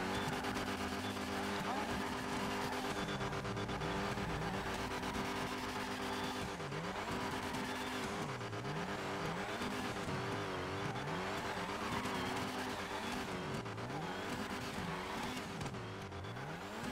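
Drift car in GTA 5 at an illegal drift event, engine revving up and down in repeated sweeps while tires squeal steadily throughout, loud and continuous.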